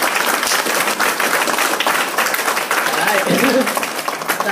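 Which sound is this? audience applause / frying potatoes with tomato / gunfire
audience applause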